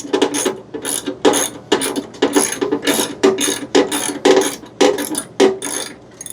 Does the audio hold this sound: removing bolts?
yes